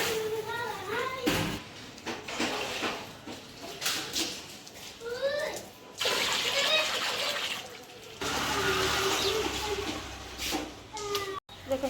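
Tap water runs steadily into a bucket in a building during a water shortage, a continuous splashing flow with short breaks while people talk over it.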